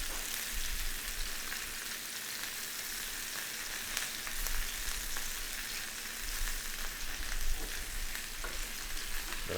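Steaks sizzle steadily in a hot pan as a constant, close, crackling hiss, with occasional louder pops and no talking.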